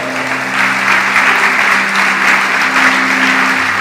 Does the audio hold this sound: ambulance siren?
no